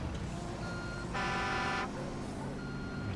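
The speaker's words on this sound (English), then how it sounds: "My truck's honking at me" Horn of a construction truck in Construction Simulator 2, one loud sustained honk of under a second over a steady engine idle, nearby and clear.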